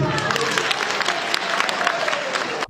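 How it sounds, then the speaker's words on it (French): A crowd applauds steadily, dense clapping at an even level for a few seconds before cutting off. "Pascal Irénée Koupaki, applaudissez."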